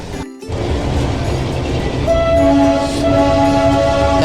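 Darjeeling Himalayan Railway toy train running through Kurseong town toward Darjeeling: a loud, steady rumble of the moving train close by, joined partway through by a sustained horn blast.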